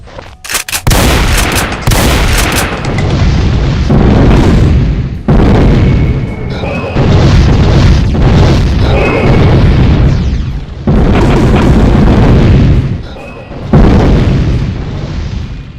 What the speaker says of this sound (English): it fires the meteor fireballs, which includes some that home onto its target